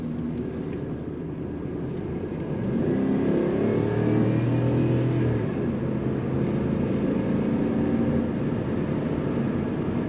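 The engine of a 2010 Ford F-150 XL pickup truck hums steadily while driving, rising in pitch as it accelerates, with road noise underneath and nobody speaking.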